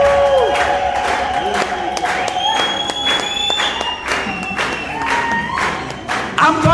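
Congregation at an Ethiopian church service clapping steadily, with cheers and high ululation rising over the applause and voices talking through it.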